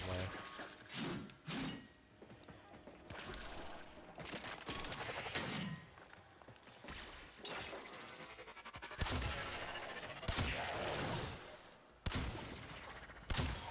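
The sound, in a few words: gunfire from a video game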